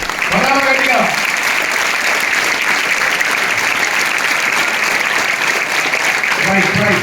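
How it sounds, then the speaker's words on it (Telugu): Tenth-grade students clap loudly and steadily for their parents, the dense applause filling the room, with a voice speaking briefly at the start and end. "వాళ్ళకు కూడా చప్పట్లు కొడదామంట"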